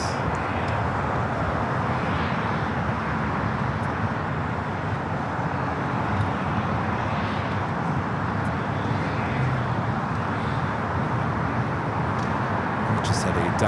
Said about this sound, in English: We just had a Delta 757 at 300 touching down here on the south side